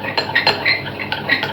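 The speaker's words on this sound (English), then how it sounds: "As we stir it, it's going to cool faster." A spoon stirs a mixture for a coffee and walnut cake in a bowl, giving close, repeated light clinks and scrapes in an uneven rhythm.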